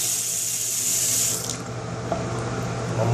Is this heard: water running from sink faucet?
yes